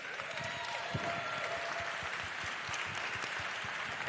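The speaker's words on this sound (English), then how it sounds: "let's give a round of applause to the panelists" A conference audience claps for panelists in a steady wash of applause, fairly distant and even, with scattered individual claps standing out.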